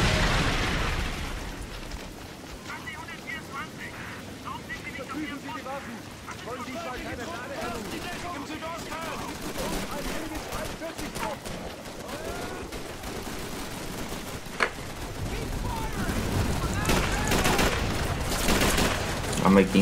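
Rapid bursts of gunfire and explosions from the Call of Duty 3 island level ring out continuously in game combat, with players talking over the sustained shooting.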